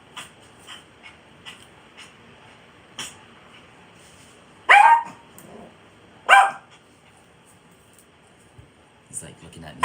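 A dog gives two sharp barks indoors, spaced apart against a quiet background with faint small sounds and light movement between them.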